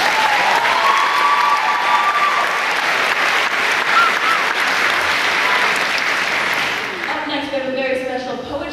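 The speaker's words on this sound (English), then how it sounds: "Give him another round of applause." A high school talent show crowd gives a full, loud round of applause with some cheering, sustained for several seconds before thinning as a voice begins speaking over the fading claps.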